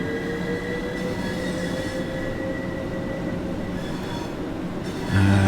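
Steady electric train running in Train Sim World 3, a continuous hum and rolling rumble with a faint whine, growing louder near the end.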